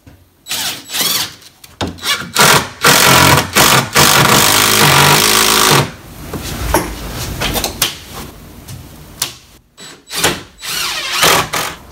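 A hammering driver rattles screws into cement board in a series of loud, harsh bursts, some long and sustained, others short, separated by brief pauses, close by.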